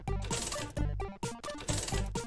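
Repeated bright metallic clinks of coins dropping into an arcade slot machine in The Binding of Isaac: Afterbirth, several bursts in quick succession at steady loudness, with game music tones running underneath and no talking.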